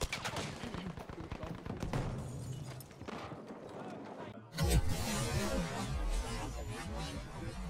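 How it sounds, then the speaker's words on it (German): Rapid gunfire in the video game Battlefield 5, dense crackling bursts that grow louder and more chaotic partway through, with a voice heard over the shooting. "Jörg in die Wand geschossen."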